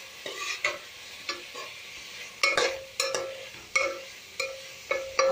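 Onions and spices fry in hot oil for egg pulusu while a spoon stirs them in the pan, giving repeated scraping strokes roughly every half second over a steady sizzle, close and moderately loud, with no talking.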